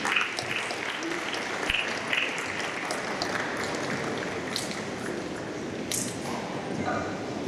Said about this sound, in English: Let's keep clapping until we get to the stage.